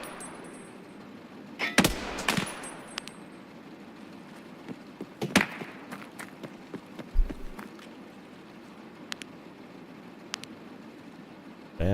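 Sniper fire rings out in Escape From Tarkov PVE, a handful of sharp gunshots and distant cracks spread irregularly over a steady background rumble, some loud and near, others faint and far.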